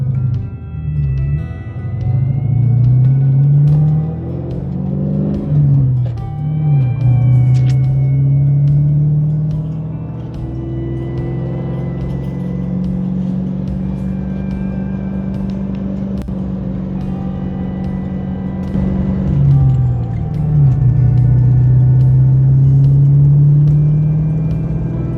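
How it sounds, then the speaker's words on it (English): A Ford Mustang drives on a main road, heard from inside the cabin, with a steady engine rumble that rises and falls through several gear changes and accelerations. "Let's take it for a ride on the main road, see how it feels."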